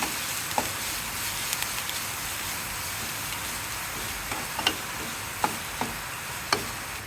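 Onion, mustard seeds, green chilies and curry leaves fry in hot oil, giving a steady close sizzle broken by scattered sharp pops and crackles.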